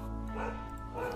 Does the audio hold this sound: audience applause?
no